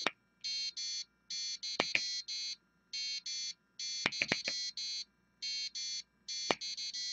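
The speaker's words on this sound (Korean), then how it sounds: "일단 부저가 울리는데 한번 들어볼게요" A piezo buzzer on an Arduino ramen timer beeps in repeated paired bursts of high-pitched tone separated by short gaps, loud and close, with sharp clicks between some of the bursts.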